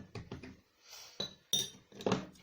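Shea butter whipped cream being whisked in a bowl: a run of quick, bright clinks and scrapes of the whisk against the bowl, close and moderately loud, in several short bursts with brief pauses.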